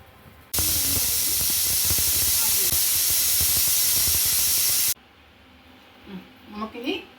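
A pressure cooker whistle on a kitchen stove releases steam in one loud, continuous hiss lasting about four seconds, then stops abruptly, followed by quieter kitchen noises.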